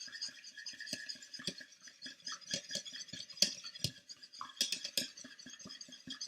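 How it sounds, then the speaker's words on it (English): Egg and vanilla whisked together in a bowl for apple cinnamon breakfast cookies, giving quick irregular clinks and scrapes of the whisk against the bowl, moderately close and with no talking. "You're then going to take your whisk and mix these ingredients together."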